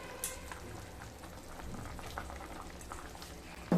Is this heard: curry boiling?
yes